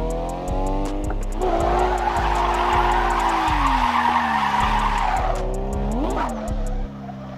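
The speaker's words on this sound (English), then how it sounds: "That was a pretty good drift." A car drifting, its tires skidding and squealing in one continuous, loud slide with the engine droning and revving underneath, lasting several seconds before easing off near the end.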